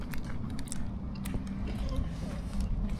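Someone bites and chews a crunchy Greggs sausage roll with warm, soft-centred pastry and a sausage filling, producing muffled close crunches and mouth noises against a steady low room rumble.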